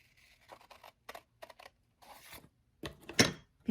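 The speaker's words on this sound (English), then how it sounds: "I'm going to cut just a little way along this line" Scissors snip through paper for a junk journal pocket in a few short, quiet, close cuts spaced apart, ending in a louder rustling cut.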